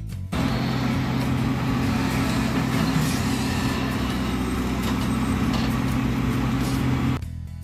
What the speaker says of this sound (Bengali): ওখানে দেখতে পেলে গাড়ির কাজ হচ্ছে, মানে রাস্তার কাজ হচ্ছে, ওখানে ড্রেন হবে, প্রচুর আওয়াজ হচ্ছে